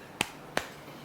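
Two soft, sharp hand claps about a third of a second apart, close and quiet against a hushed room, with no other sound.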